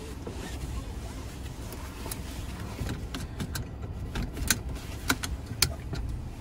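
Hyundai i20 iMT hatchback starting up, a steady low engine idle with clicks and small clunks of the controls, recorded from inside the cabin at moderate level.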